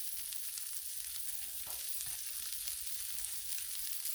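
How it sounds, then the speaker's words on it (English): Pork sizzles steadily on a Blackstone griddle at medium heat, a soft continuous frying hiss heard alone with no talk. "So let's drop some pork. Got the griddle at medium."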